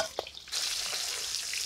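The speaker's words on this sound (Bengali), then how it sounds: "মাছের মাথাটা আগে ভেজে দাও" A fish head frying in hot oil, a steady close sizzle that swells suddenly after a brief clatter and then holds loud and bright without talk.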